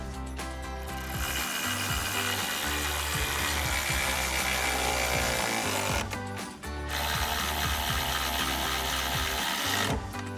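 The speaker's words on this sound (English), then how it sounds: "We're going to be using a 12mm socket, a ratchet, and a 13mm wrench" A steady whirring, clicking mechanism runs close and loud with two brief pauses, fitting a ratchet and 12mm socket driving bolts on a retractable bed step for a Ford F-150.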